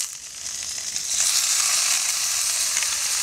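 Eggs fry on a pot lid for a vegetarian omelette, giving a loud, close, steady sizzle that swells slightly after the first second and holds evenly.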